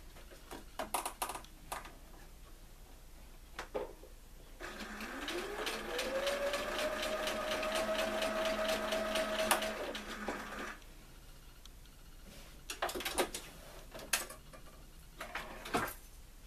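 A sewing machine quilts around the black edge of a Halloween quilt in one steady run of about six seconds, its motor whining up in pitch at the start, with light handling clicks before and after.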